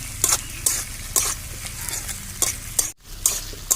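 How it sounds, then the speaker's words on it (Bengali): Green chillies and tomato frying in oil with garlic paste for an egg curry, loud and close, stirred in quick regular strokes that push bright bursts of sizzle over a steady hiss. No one speaks. "কাঁচা লঙ্কা আর টমেটো দিয়ে দেবো এক মিনিটের মতন আমি ভেজে নেব"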